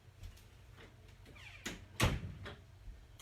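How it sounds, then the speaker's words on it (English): Door being shut in a home studio: a few soft shuffles and creaks build to one sharp close thud near the middle, followed by quieter rattles, all close and fairly quiet. "Let me close my door here so I don't hear the TV."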